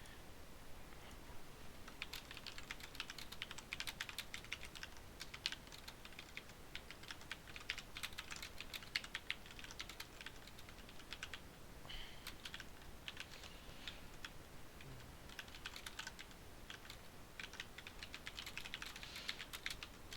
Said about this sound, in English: I'm just typing him something.